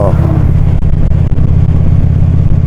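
A motorcycle engine drones loudly and steadily while being ridden on open roads, a dense low rumble mixed with rushing wind noise, close and constant throughout.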